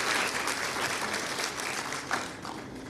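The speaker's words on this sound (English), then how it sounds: "Let's clap for them." Audience applause at a community event in Lüderitz, dense steady clapping from a crowd lasting the whole stretch at fairly even loudness, with no talk over it.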